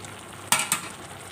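Pieces of vegetables for Onam avial being stirred in a pan, two quick scraping swishes close together over a faint quiet background.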